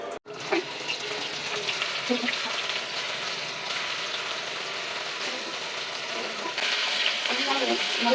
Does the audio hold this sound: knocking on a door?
no